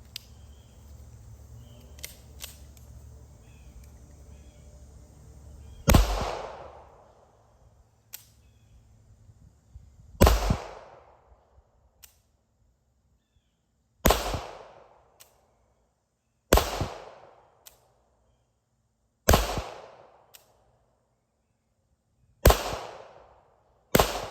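Springfield 1911DS Prodigy pistol firing at an outdoor range: six loud, sharp shots spaced a few seconds apart, each with a short decaying echo, following some faint handling noise at the start.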